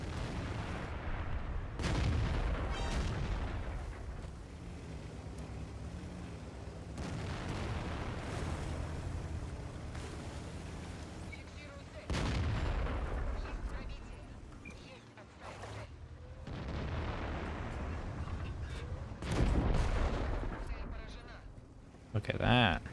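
Tank cannon blasts from the World of Tanks video game firing HE shells, a series of heavy booming shots with rumbling decay repeating across the stretch, loud over continuous engine and battle noise.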